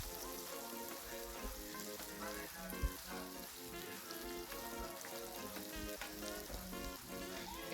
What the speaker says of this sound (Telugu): ఇందాక మనం బాగా పిండేసి తీసుకున్న ఈ కాకరకాయ ముక్కల్ని ఈ ఆయిల్లో వేసుకొని